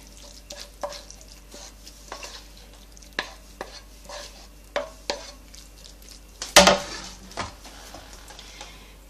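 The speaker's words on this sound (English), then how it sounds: "I'm just going to scoop about half of that on the plate" A spoon scraping and tapping as a vegetarian Italian pasta skillet dinner is scooped from the pan onto a plate, a series of separate clinks and scrapes every second or so, ending in one louder clatter.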